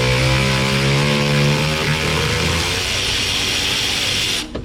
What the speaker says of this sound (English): this one's getting power tool treatment